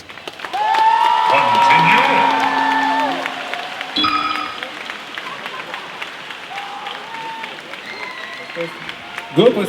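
An audience at a cosplay show breaks into loud applause and cheering that swells early, then tapers into scattered clapping while a voice carries over a music sting.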